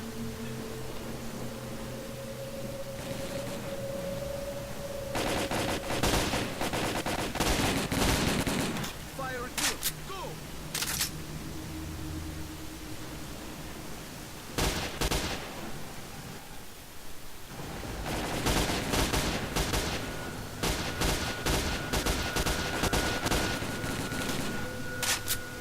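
Gunfire in the video game S.T.A.L.K.E.R. Call of Pripyat comes in repeated bursts and single loud shots over a constant hiss of ambient game noise.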